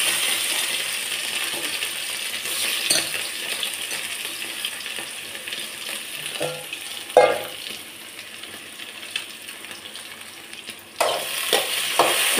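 Cut potatoes dropped into hot oil already holding a few fennel seeds, making a steady low sizzle broken by a few sharper clatters and splashes as the pieces land and get stirred, close up with no talking.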